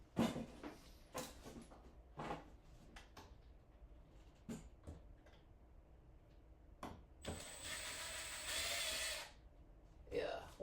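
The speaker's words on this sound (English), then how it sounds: "Where's my drill?" A handheld power drill whirs in two short bursts, the second longer and higher-pitched, amid scattered clunks and handling noises while pantry string lighting is installed, with talk nearby.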